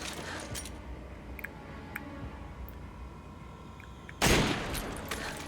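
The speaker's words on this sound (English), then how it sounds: "I am going to use the nitrogen rounds to get rid of them" A nitrogen-round shot fired in Resident Evil 5: soft clicks and ticks over a quiet game backdrop, then one sudden loud burst that rings on briefly.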